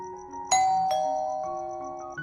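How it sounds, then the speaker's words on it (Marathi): A two-tone doorbell chime rings once, clear and close, its notes lingering and fading in a quiet room. "दारावरची बेल वाजली."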